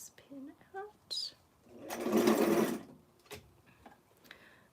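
A sewing machine back stitches on a pillbox hat in one quiet burst of about a second, with soft speech and small handling sounds around it.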